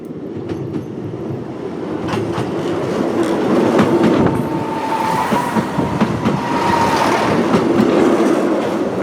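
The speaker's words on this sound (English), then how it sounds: "where else in the country can you get this close to a train, on a bridge, at the seaside" A train rumbles across Barmouth Bridge at the Welsh seaside, heard close up as a loud steady roar with clattering wheels and faint squeals that build and hold throughout.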